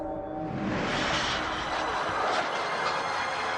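A loud roar of an aircraft engine sweeps in and holds steady, broad and rushing, with no voices.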